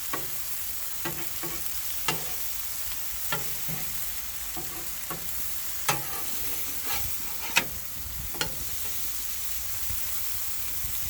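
Mushrooms and asparagus sizzle steadily on a Blackstone griddle, a soft constant frying hiss broken by occasional sharp pops and scraping stirs, with no voices.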